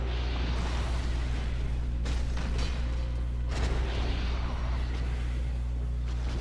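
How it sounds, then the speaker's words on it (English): Explosions from the boss Quelaag, a chaos witch on a giant spider body, in a video game battle: heavy booming bursts, two prominent blasts, over a constant low game drone. "Now she has 2 different types of explosions"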